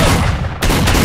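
Gunfire rattles in a STALKER shooter game firefight, a loud burst of shots cutting off abruptly and then resuming in quick, heavy bangs up close.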